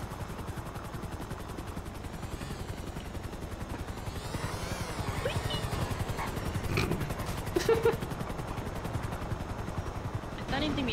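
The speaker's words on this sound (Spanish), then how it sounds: "Están intimidando esos helicópteros, lo único que voy a decir." Helicopters in the video game Shadow Punk give a steady, close rotor thrum, with brief bursts of gunfire rising in the middle. People talk faintly under the noise.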